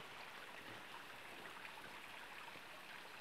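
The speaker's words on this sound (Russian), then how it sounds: "Вот такой огроменный водопад" A huge, sheer waterfall roars in a steady, unbroken wash of rushing water, loud and close, with no voices.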